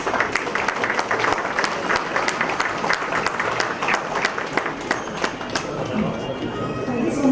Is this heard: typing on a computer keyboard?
no